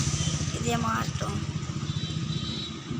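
A parked auto rickshaw idles close by with a steady low, rapid putter, and a voice is briefly heard over it early on.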